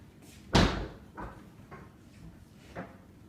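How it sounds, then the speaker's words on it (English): A fold-away wall bed is lifted back up into a two-door bedroom wardrobe, giving one loud close thump followed by a few softer knocks and creaks, nearby and without talk. "When you don't need it as a bed anymore, you just lift it back up. It folds away nice and neatly."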